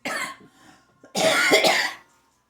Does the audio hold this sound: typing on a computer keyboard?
no